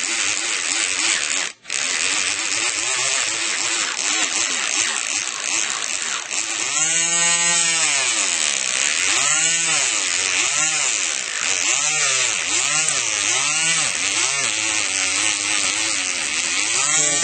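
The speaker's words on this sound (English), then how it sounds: "So I'm going to drill it down, file it down basically, to get the shape back." High-pitched electric nail drill whirring steadily, its pitch dipping and rising repeatedly as it files down an acrylic nail during a fill-in, close up with no talking.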